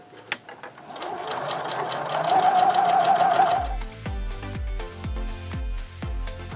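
A sewing machine stitching a dart along a fabric fold line at a short 1.5 stitch length, a loud steady whirring run that shifts into slower rhythmic thumping stitches, close up with no talk.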